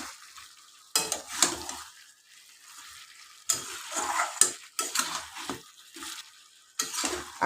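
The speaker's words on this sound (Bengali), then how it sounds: "এবার কষাতে শুরু করব।" Chicken is sautéed with whole onions in a pan for panch phoron chicken, giving bursts of sizzling and frying with stirring and utensil scrapes against the pan between quieter gaps, close up.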